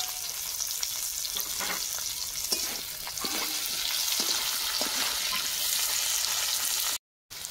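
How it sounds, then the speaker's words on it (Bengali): Dried red chillies, Bengali five-spice and whole mustard seeds sizzle steadily in hot oil, a continuous bright crackle with a few sharper pops and stirring, close by, with no talking and a brief cut to silence near the end. "5 ফোড়ন দিয়ে দিচ্ছি, আর এখানে গোটা সর্ষে দিয়ে দেবো।"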